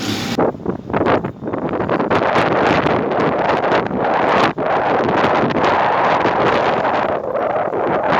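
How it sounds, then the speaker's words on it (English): Strong gusts buffet the microphone outdoors on a Sarajevo street near trams, a loud continuous rumble with brief dips, no voices. "You'll have to excuse the wind."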